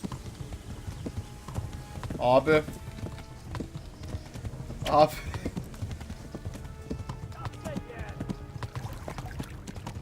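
Horse hooves clip-clopping at a gallop in Kingdom Come: Deliverance, a steady rapid beat with a couple of whinnies, while someone speaks briefly over it.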